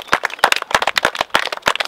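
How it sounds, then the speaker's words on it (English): A brief round of applause for sponsors at a community school tree-planting event, close and fairly loud, sounding like a small group clapping with an uneven, sparse rhythm of individual claps. "Can you all give them a round of applause?"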